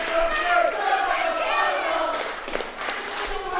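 A wrestling crowd shouts and claps along in response to wrestler Sammy Sparks, voices rising in waves with scattered rhythmic claps, while a commentator talks over the noise.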